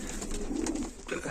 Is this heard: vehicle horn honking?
no